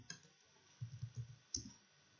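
Computer keyboard keys click several times in quick succession while pressing the Ctrl H shortcut, faint and close, followed by a sharper single keystroke.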